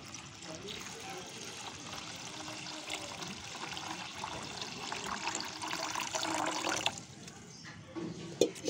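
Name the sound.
water poured into pot of broken rice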